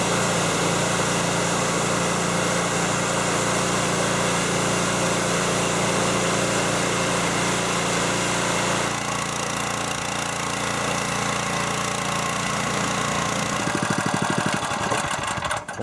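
Steady loud engine drone of a gas pressure washer running during deck cleaning, continuous throughout, changing tone near the end as it is throttled down or shut off.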